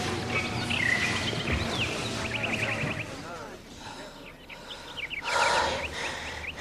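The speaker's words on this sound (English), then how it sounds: "You hear that bird?" A small songbird trills and chirps in short bursts, clear phrases separated by pauses against a quiet outdoor background, with a voice briefly present.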